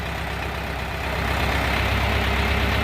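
A loud Orion 404 tractor with a front loader drones steadily throughout, its low rumble building slightly as it pulls.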